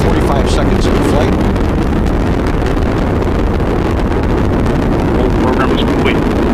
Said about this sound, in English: the Atlas rocket carrying OSIRIS-REx has gone supersonic